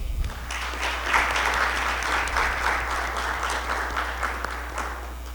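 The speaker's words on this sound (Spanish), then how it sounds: "Un aplauso." Audience applause after an onstage thank-you at an institutional event, a steady dense wash of clapping from a large crowd holding at even loudness throughout, with no voices over it.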